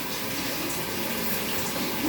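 Running shower water streams steadily while a thick-coated cat is washed, a constant broad hiss of spray with no pauses.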